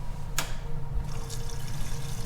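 Water rushes steadily through a reverse osmosis filter system as the household supply is turned back on, a continuous close hiss with a sharp click early on and no talking.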